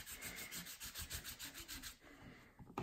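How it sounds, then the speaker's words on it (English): A sponge dauber rubs in quick, even strokes over the raised relief of a country floral embossing folder, close and soft, about a dozen rhythmic swipes before stopping, then a brief clatter at the end. "and a sponge dauber, and I'm going to highlight the relief in the embossing folder"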